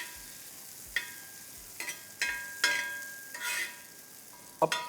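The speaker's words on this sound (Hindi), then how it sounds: "अब इन दोनों को, प्याज और कैप्सिकम को तेज़ आंच पर 2 से 3 मिनट पकाइए" Sliced onion and capsicum cooking over high heat on a hot tawa, a quiet steady sizzle broken by several sharp spatula scrapes and taps spaced irregularly, close and alone.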